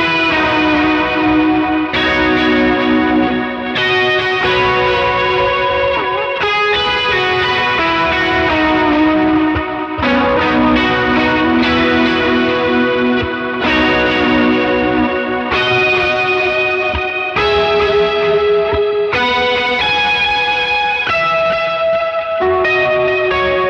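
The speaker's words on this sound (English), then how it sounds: "messing around with different pitch effects to find something that had some chorusing" An electric guitar plays a flowing run of notes, shimmering and doubled with a wavering chorus-like pitch effect and a wash of echo, loud and continuous.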